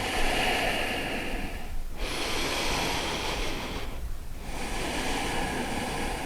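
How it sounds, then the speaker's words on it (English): Slow, deep yoga breaths during a standing pose, long airy inhales and exhales rushing steadily and close, separated by two brief quiet pauses between breaths. "Inhale, expand, and exhale, deepen."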